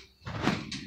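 Misaligned kitchen door rolling along its track, a short scraping slide that rises abruptly and grinds for about half a second before a brief higher-pitched squeak.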